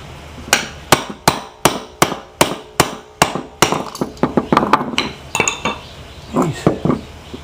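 A hammer whacks the pressed-on clutch coil off an automotive AC compressor: about ten loud, evenly spaced metallic blows, then a quicker, more irregular run of lighter strikes and clinks, with no talking.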